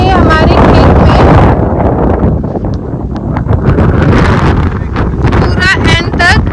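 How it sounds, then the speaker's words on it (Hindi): Strong wind buffets the microphone in an open farm field of chickpea crops, a loud continuous rumbling roar throughout, with voices talking over it. "आज बहुत ज्यादा हवा चल रही है।"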